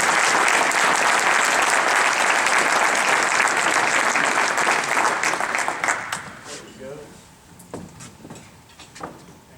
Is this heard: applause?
yes